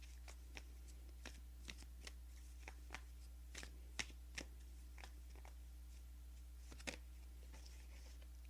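Tarot cards being shuffled by hand, a run of sharp crisp riffling snaps at an irregular pace over a steady low hum, close and fairly quiet.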